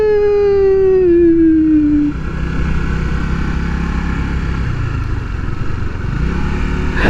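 A Honda CBR150R motorcycle revs high and loud, its engine pitch sliding down as the rider eases off, then holds a steady rumble while circling a roundabout.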